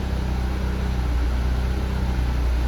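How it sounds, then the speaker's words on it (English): A tuned car engine idles steadily at a stoichiometric air-fuel ratio, a low, even hum with no surging, close and continuous throughout. "it's idling really nice, really responsive. No surging issues, no nothing."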